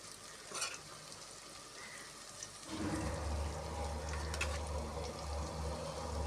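Chicken pieces go into a hot pan for biryani, and after a quiet stretch a loud, steady sizzle of frying takes over and carries on to the end, with light stirring noises.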